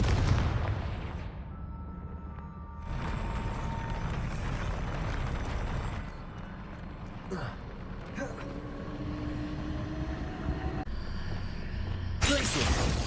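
Fire spell explosions from the game Hogwarts Legacy, with repeated loud booming blasts and crackling bursts over a busy combat soundscape, with a voice speaking over it at times.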